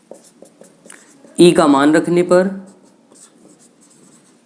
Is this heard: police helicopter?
no